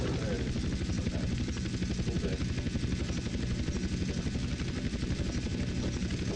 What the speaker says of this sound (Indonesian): enakan naik helikopter malah gua mah